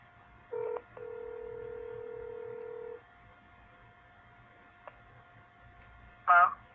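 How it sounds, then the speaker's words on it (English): A telephone call is placed back after a dropped line: a short tone burst, then a long steady dial tone, a brief click, and a final burst of keypad tones near the end, heard alone without talk. "All right, let's give her a call back."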